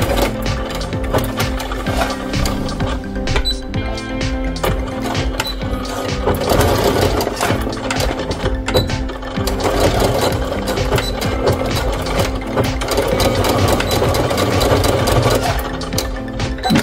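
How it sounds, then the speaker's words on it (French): A sewing machine stitches elastic onto fabric for camper van bench seat covers, running in a steady, close mechanical whir that continues without a break throughout, with no talking. "moi je vais coudre à la machine"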